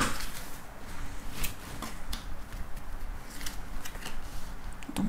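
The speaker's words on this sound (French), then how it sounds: "donc je fais le tableau de 15 cartes" Tarot cards are dealt out one by one into a fifteen-card spread on a table. Soft close-up snaps, slides and taps of card stock repeat at an uneven pace over a faint background hiss, with no talking.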